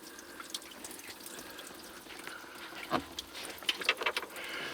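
Water draining from an engine drain plug on a Crownline 202 boat with a 5.7 liter EFI engine, a faint trickle and drip building slightly in the final seconds over a low background hiss.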